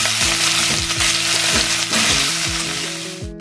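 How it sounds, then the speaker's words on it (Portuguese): Sliced calabresa sausage fries in oil in a single pot, a steady loud sizzle broken by repeated scraping stirs and hard clinks of a spoon against the metal, with no voices. "Agora eu vou colocar um pouco de óleo e vamos fritar essa calabresa"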